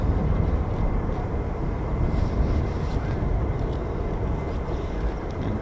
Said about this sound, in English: in the background, we can hear our F-15E Strike Eagles.